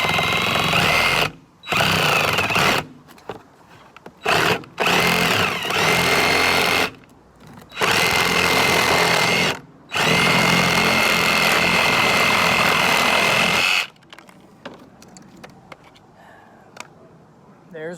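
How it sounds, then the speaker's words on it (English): A reciprocating saw trims the edges of a plastic air dam on a Jeep Wrangler JK, loud close buzzing in repeated bursts of a few seconds with short pauses, then fading into quieter handling noise at the end. "I'm gonna try just trimming off these edges with a Sawzall and putting it back on"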